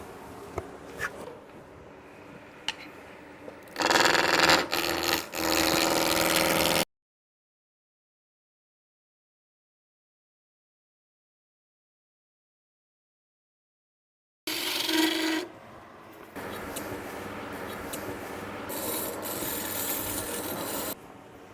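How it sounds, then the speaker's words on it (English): A spindle roughing gouge scrapes and rasps against spinning wood on a lathe in loud bursts, broken by a long stretch of silence before the rough cutting resumes. "Now I'm going to take my spindle roughing out tool and just create a straight taper between the two."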